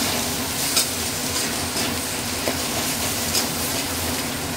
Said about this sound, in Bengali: কেটে রাখা টমেটো কুচিটাও দিয়ে দিলাম এর সাথে